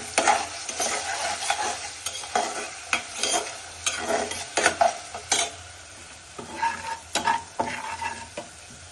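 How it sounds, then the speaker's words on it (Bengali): Spices and olives are sautéed in a pan for a fish dish, a close, busy sizzle under repeated scraping and clattering strokes of a spoon against the pan, with no one speaking. "আমি মশলা কষানোর সাথে জলপাই দিয়ে মাছ রান্না করব তাই হচ্ছে জলপাই দিয়ে দিচ্ছি মশলা কষানোর সাথে"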